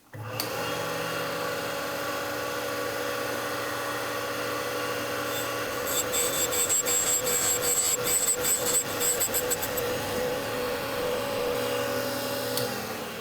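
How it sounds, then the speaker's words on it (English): A Deckel S0 drill bit grinder runs with a steady mechanical grinding whine throughout, with a harsher rasping, scraping texture partway through as a metal drill bit is worked against the wheel. "That's the drill grinding attachment."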